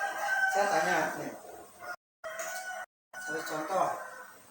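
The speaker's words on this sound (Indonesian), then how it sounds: "Misalnya suara ayam kan?" A rooster crows loudly and close up in several drawn-out calls, broken by two short gaps of silence, with no talk over it.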